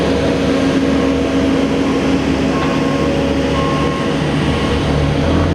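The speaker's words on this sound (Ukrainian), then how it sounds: "Наразі тут укладають фінішний шар асфальтобетонного покриття." Heavy road machinery lays the finishing layer of asphalt concrete on a 25 km stretch of a regional bypass road, producing a loud, steady, unbroken mechanical rumble and drone with no voices.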